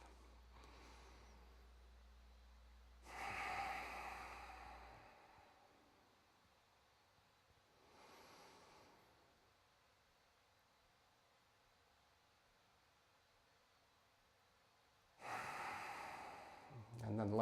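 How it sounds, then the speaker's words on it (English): Deep, slow breaths drawn and released during a gentle yoga flow for a tight lower back: a few soft, airy inhales and exhales, spaced several seconds apart, close and fairly quiet against a hushed room. "So a couple big rounds of breath."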